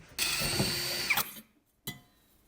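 Power drill boring a small pilot hole in a metal part for a bio stove, one steady whining run of about a second, stopping abruptly, followed by a brief clunk close by.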